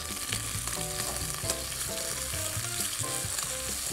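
Steaks sizzle steadily in a frying pan, a dense continuous crackle and spit with scattered pops, close and loud, with no talking.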